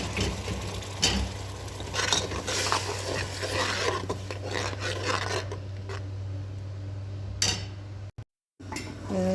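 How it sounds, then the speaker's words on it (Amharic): Tomato, onion and garlic fry in a pot on a home stove while preparing rice biryani, giving a steady sizzle with scraping and stirring clatter of utensils against the pot, close and continuous, briefly dropping out near the end. "ቲማቲሙና ሽንኩርቱ ነጭ ሽንኩርቱ እየተጠበሰ ነው።"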